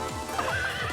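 A horse in the game Miitopia gives a short clip-clop and neigh, a brief whinnying call over a steady musical backdrop, lasting only about a second.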